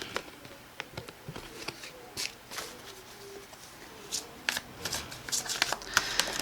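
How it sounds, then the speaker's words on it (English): Tarot cards are shuffled by hand in close, quiet riffles and soft flapping bursts that grow busier toward the end. "Reshuffle."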